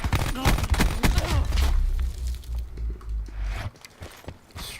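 Pistol gunfire in Black Ops 4, a rapid burst of sharp shots in the opening seconds over a low rumbling game soundscape, then scattered quieter pops.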